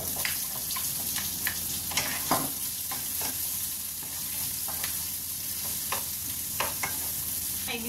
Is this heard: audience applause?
no